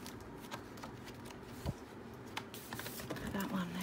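Scrapbooking cards meant for cutting out being handled and shuffled, with soft papery rustles and a few sharper taps close by, faint against a quiet room.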